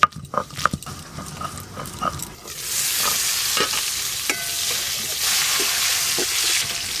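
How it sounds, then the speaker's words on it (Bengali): Potatoes frying in oil for a chicken curry, first several sharp clatters and scrapes of stirring, then a loud steady sizzle with intermittent spatula scrapes continuing to the end. "আলুগুলো বেশ লাল লাল করে ভাজা ভাজা হয়ে গেছে"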